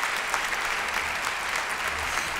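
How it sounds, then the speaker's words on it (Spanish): Audience applause at a live comedy show: dense, steady clapping from a full house that holds at an even level throughout, with no talk over it. "dele un aplauso a este hombre."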